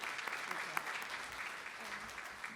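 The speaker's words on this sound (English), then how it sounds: "Let's give her a big round of applause." An audience at a scientific poster challenge awards event claps steadily, a dense wash of applause with no clear pauses, heard from within the crowd.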